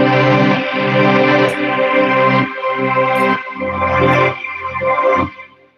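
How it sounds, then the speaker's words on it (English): Layered synth chords with a sidechain effect pulse and duck rhythmically, the sustained tones repeatedly dipping and swelling back with a pumping feel before fading out. "what you're hearing is the sidechain that's being turned on"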